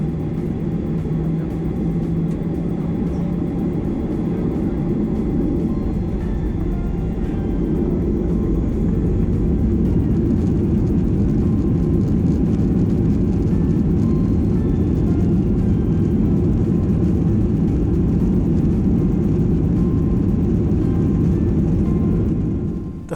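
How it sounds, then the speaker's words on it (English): Airliner taking off down runway 28, heard from inside the cabin: a deep, loud, steady engine roar and rumble building along the takeoff roll, with no talk. "And for the fourth time today, hurtling down runway 28."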